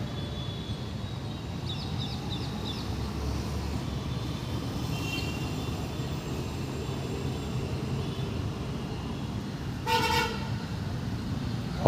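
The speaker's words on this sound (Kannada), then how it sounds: "ಹಾರನ್ ಸೌಂಡ್ ಕೇಳಿಸ್ಕೊಳ್ಳಿ ಸಾಕು, ಬರೀ ಹಾರನ್ ಸೌಂಡ್ಗಳು ಎಷ್ಟೊಂದು ಕೇಳಿಸ್ತಾರೆ." Vehicle horns toot in street traffic over a constant low rumble of engines: a quick series of short beeps early on, then a louder, sharper horn blast later.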